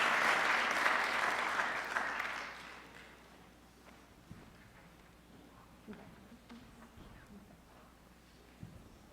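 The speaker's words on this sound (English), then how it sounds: "I invite you once again to express your recognition by applause." An audience at a 2018 university honors convocation applauds award recipients with a brief burst of clapping that fades after a few seconds into a quiet hall with occasional footsteps and knocks.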